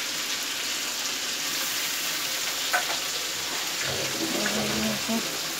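Ginger and garlic sizzle and crackle steadily in hot oil, close and continuous, with faint stirring and a soft clink.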